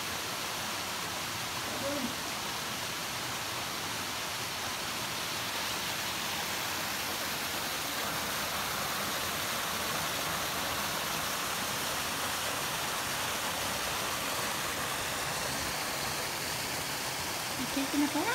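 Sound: waterfall

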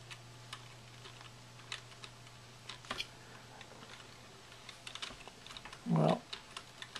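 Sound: typing on a computer keyboard

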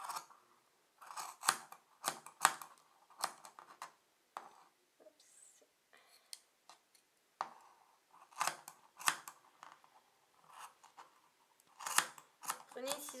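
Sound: scissors cutting yarn fringe of a knitted scarf

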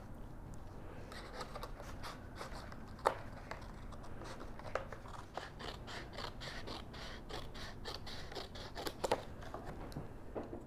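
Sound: trimming excess chipboard

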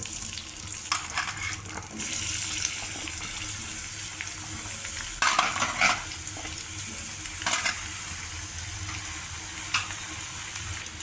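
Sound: capsicum pieces frying in hot oil

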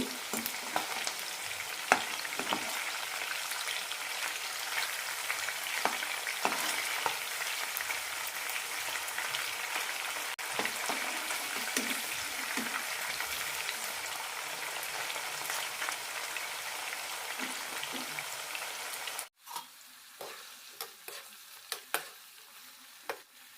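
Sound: chicken pieces frying on medium flame for pickle

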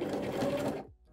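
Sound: sewing machine stitching belt loops

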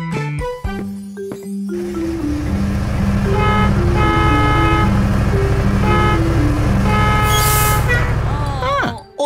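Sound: bus horn honking

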